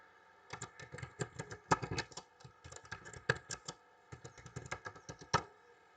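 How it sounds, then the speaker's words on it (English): Rapid clicking of computer keys in irregular bursts, close and clear, with short pauses between runs of typing. "I'm typing the subject"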